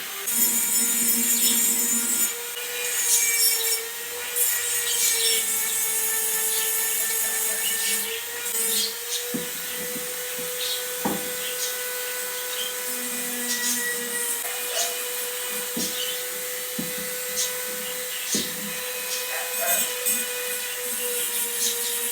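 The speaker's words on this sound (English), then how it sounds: "I'm going to switch on my Dremel" A Dremel rotary tool whines steadily at close range during work on a custom e-bike, its constant high tone punctuated by short grinding and scraping bursts, with no talking.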